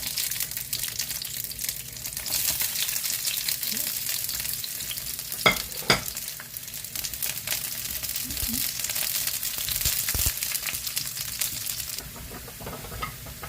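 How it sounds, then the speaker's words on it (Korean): Garlic stir-frying in a generous pour of olive oil, a steady close sizzle and crackle with occasional stirring clatter, running throughout with no talk. "올리브유 듬뿍 마늘 넣어서 볶아줄게요."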